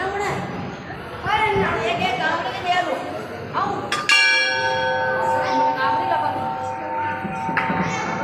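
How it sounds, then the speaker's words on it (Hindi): A large bell hangs at the Jadeshwar Mahadev temple in Rashmi; one sharp strike rings out and leaves a long shimmering metallic hum over steady crowd chatter and talk. "ये जाडेश्वर महादेव के मंदिर में घंटा लगा हुआ है।"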